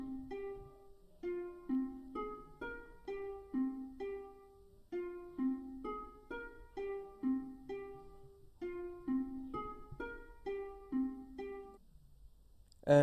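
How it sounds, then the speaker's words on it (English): Plucked harp notes in a dark, moody hip-hop sample, a steady melodic pattern of ringing tones with low bass notes beneath, played alone at a modest level before a sudden louder hit at the end. "I then added a harp after that,"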